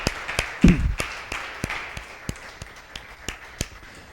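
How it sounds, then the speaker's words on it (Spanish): A church congregation applauding: sparse, scattered claps in an uneven rhythm, one sharp thump early on, fairly close and moderately loud in a reverberant room. "Dele un aplauso a Cristo."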